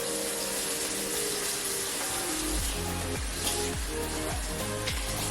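Hot tap water runs steadily into a sink, a loud continuous gush with a few low thuds and knocks underneath, no talking.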